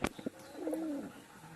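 A single soft pigeon coo, a low warbling call swelling and fading, preceded by a few brief knocks, with no talking.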